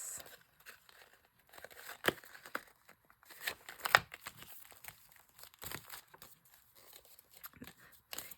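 Paper crinkles and rustles close by while being folded into a small booklet for a junk journal, with soft irregular handling noises and a few sharper crisp creases.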